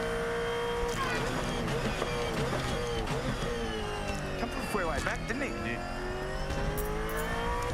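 Onboard a Supercars race car during a pass, the engine revs steadily and loudly, with gear changes and tire squeal, while commentators talk over it.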